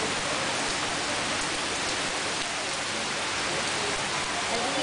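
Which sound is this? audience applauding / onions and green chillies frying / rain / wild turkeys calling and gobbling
rain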